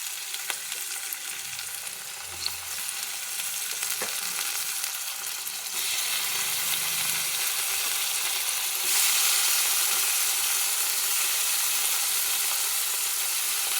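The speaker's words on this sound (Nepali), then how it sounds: "अब यसमा चाहिँ हामीले चोप टमेटोज हाल्ने" Chopped tomatoes frying in oil in a pan during noodle cooking, giving a steady close sizzle with a brighter surge partway through and no talking.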